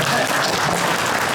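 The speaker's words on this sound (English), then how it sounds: "Round of applause." Dense, loud applause from a panel audience at WonderCon 2024, steady unbroken clapping from a full room with no talking over it.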